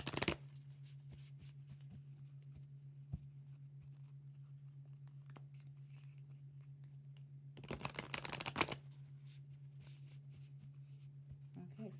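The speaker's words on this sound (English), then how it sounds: "I am going to shuffle live" A deck of tarot cards is shuffled in a single brief riffling burst of about a second, close by, over a steady low hum and otherwise quiet surroundings.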